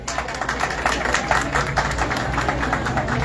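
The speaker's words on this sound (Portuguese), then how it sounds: "Uma salva de palmas para a Kátia." Outdoor crowd at a public rally in defense of women's lives claps for a speaker, a steady, moderately loud patter of many hands with the sound of an open-air setting behind it.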